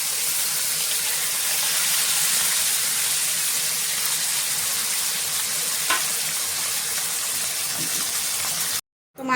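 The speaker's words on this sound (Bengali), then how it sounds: "এবারে বাকি মাছগুলো ভেজে নেব" River fish frying in hot oil in a kadai make a loud, continuous hissing sizzle that holds steady and then cuts off abruptly near the end.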